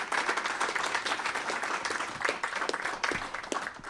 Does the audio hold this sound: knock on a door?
no